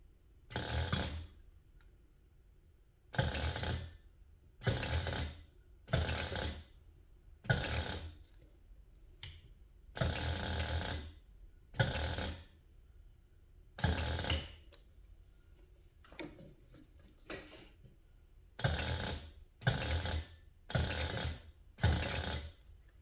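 A sewing machine stitching through thick handbag layers with an eighth-inch seam allowance, in short regular bursts of whirring separated by brief pauses, close and clear with no talking.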